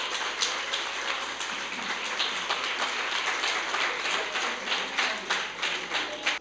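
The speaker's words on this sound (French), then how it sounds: "Je vous demande vraiment de l'applaudir très fort." An audience at a children's mayor ceremony claps steadily and loudly, a dense continuous patter of many hands with no voices, sustained throughout.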